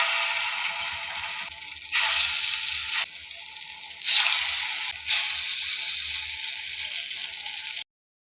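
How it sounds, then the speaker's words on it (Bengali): Dal bora lentil fritters made from ground lentils and spices deep frying in hot oil, a steady loud sizzle that swells in bursts as more batter drops in, then cuts off abruptly. "যাই ঝটফট করে ভেজে দিই।"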